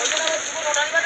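Steady rain patters on a surface in a broad, continuous hiss that holds level throughout, fairly close and with no break, and no other sound standing out above it.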